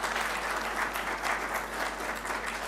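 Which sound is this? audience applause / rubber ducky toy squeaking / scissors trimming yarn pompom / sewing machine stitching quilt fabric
audience applause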